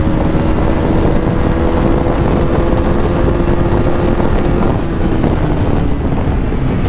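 A 2025 Bajaj Pulsar NS400Z motorcycle accelerating hard in fourth gear, a loud steady engine drone under heavy wind rush, rising slightly in pitch, heard close from the rider's position.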